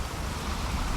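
Steady, dense hiss of cold rain falling in a dark, muddy setting in Wyrded Hand Lighthouse, an even unbroken wash with no distinct drops standing out.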